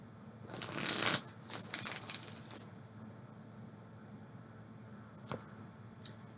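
A tarot card deck is shuffled in a brief close burst of riffling and rustling, followed by a few faint card snaps and taps in near quiet.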